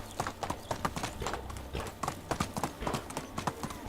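Horse hooves clip-clop in a quick, steady rhythm while riding in the medieval life-sim game Medieval Dynasty, close and fairly loud, with faint background sound and no clear talk.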